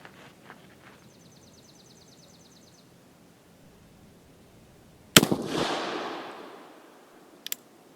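A single loud, close shot from an Uberti 1847 Walker black-powder revolver firing a heavy Dragoon bullet over a 36 grain charge, with a sharp crack and a long decaying roar, followed by two faint clicks.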